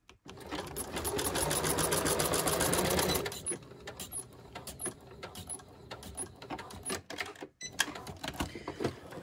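A sewing machine stitches a garment lining in a steady, loud run for about three seconds, then stops, leaving scattered handling clicks and rustles of fabric.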